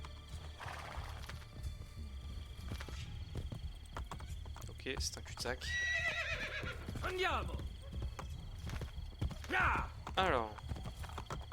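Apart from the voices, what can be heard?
horse neighing and hooves in video game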